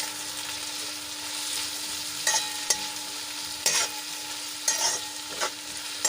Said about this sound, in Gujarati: થોડાક હલાવીને આ રીતે આપણે મસાલાને સાંતળી લઈશું ડુંગળી અને બટેટા ટમેટા